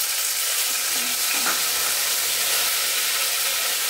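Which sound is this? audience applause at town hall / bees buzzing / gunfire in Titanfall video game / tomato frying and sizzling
tomato frying and sizzling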